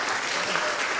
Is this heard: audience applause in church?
yes